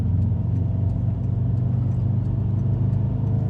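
A Subaru STI engine runs at a steady, loud low rumble while driving, with faint rhythmic ticks above the drone and no voices.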